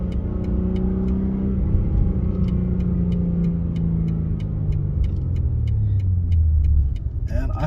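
A 2022 BMW M3 Competition xDrive engine pulls hard and close, its note sweeping down through several gear changes with a deep growl, ending in a burst of crackles.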